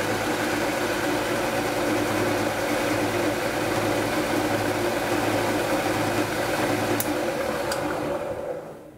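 Radical Bowling Technologies Trail Blazer Solid bowling ball spinning on a spinner, a steady loud mechanical hum and whir with a couple of faint clicks before it fades down at the end.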